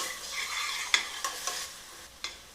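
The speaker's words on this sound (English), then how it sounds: "So we're going to fry the onions till they caramelize a little bit" Seasoned onions fry in a pan, a continuous sizzle broken by several sharp scraping clicks of stirring, close and fairly loud with no voices.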